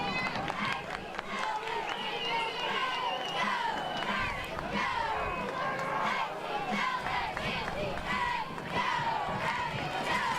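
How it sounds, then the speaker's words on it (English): Football stadium crowd at a night district high school game roars in a dense, continuous wall of shouting and rumble for the whole stretch, with some voices rising above the din. "Atlanta crowd is getting loud. Getting rumbly."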